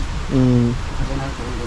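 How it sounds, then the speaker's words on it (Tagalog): Heavy rain pours as a steady broadband hiss, with a voice speaking briefly over the downpour. "Malakas ng ulan."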